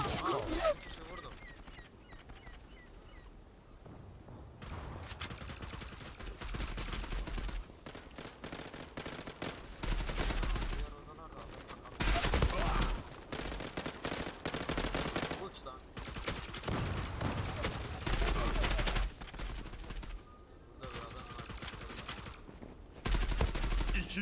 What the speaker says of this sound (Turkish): Bir kişi vurdum.